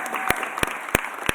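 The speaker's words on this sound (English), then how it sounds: "Give him a huge round of applause" Applause for the city council president at a mayor's press conference. A crowd claps in a dense wash, and four loud, sharp bursts land at even intervals over it.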